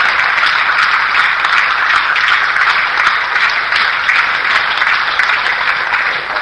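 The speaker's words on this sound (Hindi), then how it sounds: "सो ये जो तालियां हैं, जो पहले की नेगेटिविटी हमारे यहाँ पे फीड है, उस नेगेटिविटी को वास करने के लिए बार बार बजाई जाती हैं।" Loud, continuous applause from a large business seminar audience, dense even clapping sustained throughout with no voices over it.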